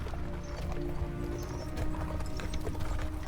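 Horse hooves clip-clopping in the game The First Berserker: Khazan, a steady rhythmic trot over a rumbling background, close and continuous, with a brief whinny-like tone.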